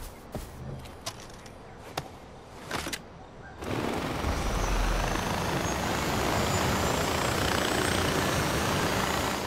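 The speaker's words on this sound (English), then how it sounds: "Let's take our little helicopter there." A small helicopter in the video game Far Cry 4 starts with a few sharp mechanical clicks, then settles into a loud, continuous rotor and engine roar that holds steady to the end.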